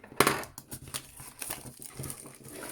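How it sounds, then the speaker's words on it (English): Close, crackly crinkling of thin plastic wrap being peeled and crumpled, in irregular bursts with no voices. "cellophane coming off"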